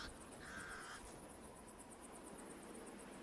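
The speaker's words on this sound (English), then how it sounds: "The pied crows sound the alarm again." A single harsh alarm call from a pied crow rings out briefly near the start, over a steady background of insect buzzing and faint outdoor ambience.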